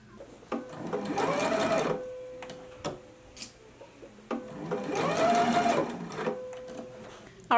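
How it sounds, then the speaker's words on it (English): A sewing machine runs a basting stitch through fabric layers for a holiday dress, two long bursts of rapid mechanical whirring separated by a pause, with clicks and handling noises between runs. "So let's go to the machine and do a basting stitch in these layers now."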